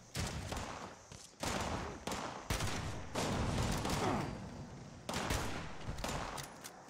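Bursts of rapid automatic gunfire from a weapon in Fallout 76, about six loud volleys separated by short pauses, sharp and close, with no voices.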